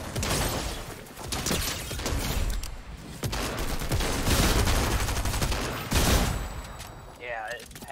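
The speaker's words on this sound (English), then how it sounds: "Gunshots north-northwest." Gunshots and machine gun fire in a Fortnite squads match: dense bursts of rapid shots crackle almost continuously, with scattered louder cracks, while background voices come and go.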